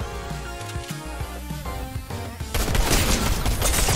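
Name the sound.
gunfire in the video game Fortnite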